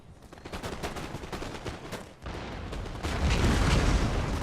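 Musket volleys in the strategy game Total War: Empire, a rapid crackling fusillade of overlapping shots that swells into a dense, louder roar of gunfire toward the end.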